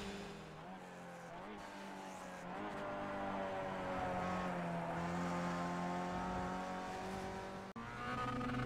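Mazda MX-5 race car in iRacing at Donington circuit holding full throttle on a final lap, a steady loud engine drone with rising harmonic pitch, briefly cut near the end, with speech over parts of it.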